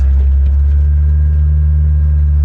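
Barn-find Ford Escort Mk2 engine running steadily on a first drive with a fuel can on the bonnet, a loud, close low rumble holding even throughout.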